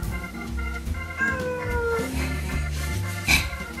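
A cat meows close and loud, a long rising and falling call, with a shorter meow near the end. It is heard in a pottery studio where underglaze work is going on.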